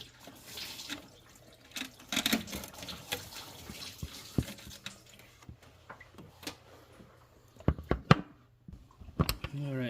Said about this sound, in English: Lots of coolant still coming out.